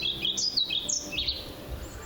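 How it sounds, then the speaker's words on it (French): Birds chirp near a woodland peat bog, with quick bright tweets and short warbling calls tumbling over one another close by, against a faint low background rumble. "Il suffit d'écouter un peu les conversations des oiseaux"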